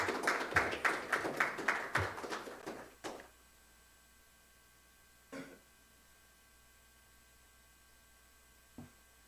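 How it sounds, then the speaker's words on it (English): Applause from an audience at a university awards ceremony in Belize, a dense burst of clapping for about three seconds that quickly thins out, followed by a few isolated knocks or taps in a quiet room. "Please give him a round of applause."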